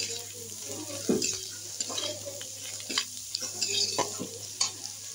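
Noodles with beans, carrot and egg stir-fried in a pan: a spatula scrapes and knocks against the metal again and again, close and fairly loud, over a soft sizzle and a low steady hum.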